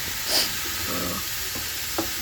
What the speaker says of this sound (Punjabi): ਸਬਜ਼ੀ ਤੇ ਤੜਕਾ ਲੱਗ ਗਿਆ